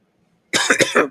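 A short burst of several harsh coughs from one person, close and loud, after a brief near-silent moment.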